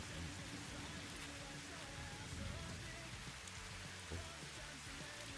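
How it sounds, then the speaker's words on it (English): Rain in the video game Satisfactory falls as a steady, quiet patter on surfaces, with faint low background rumble and no clear talk. "I was going to say it's raining a lot"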